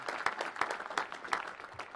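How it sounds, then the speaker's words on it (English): Audience applause for the Secretary of Commerce at a National Space Council meeting, a fairly faint two-second patter of clapping with distinct louder claps roughly every third of a second. "You can give the Secretary of Commerce a round of applause"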